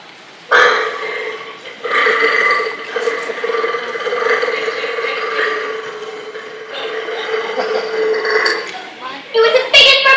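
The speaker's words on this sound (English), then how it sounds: "It was the biggest burp I've ever done." A long, exaggerated stage burp from a child performer in Matilda the Musical, loud and sustained for several seconds, then breaking off into a few shorter bursts.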